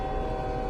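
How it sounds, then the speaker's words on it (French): Loud, steady train horn fitted to a truck in American Truck Simulator, one continuous sustained chord blaring alone for under a second. "Le camion a un klaxon de train."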